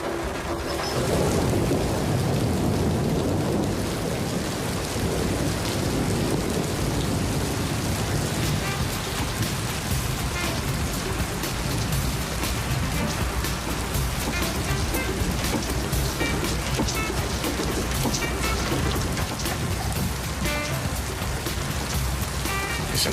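A loud thunderstorm with heavy rain pours down continuously, a dense steady roar of water drumming on surfaces with rumbling thunder underneath, filling the whole scene without a break.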